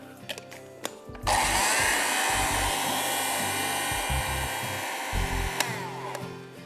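A blender whirs steadily as it purees strawberries, yogurt and a little lemon juice for frozen yogurt, a loud close motor drone lasting several seconds after a brief start.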